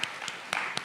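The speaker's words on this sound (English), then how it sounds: "a big applause for our partners who helped us" Brief bursts of clapping, a few sharp claps spaced apart rather than a full sustained round of applause, fairly quiet and close.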